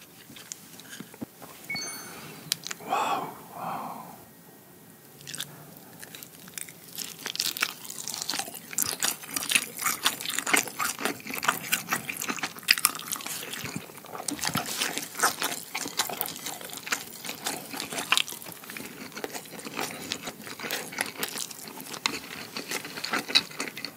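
Eating Spam with kimchi stew bibimbap in a mukbang, close-miked crunches, bites and wet chewing in irregular bursts, fairly faint, with no talking.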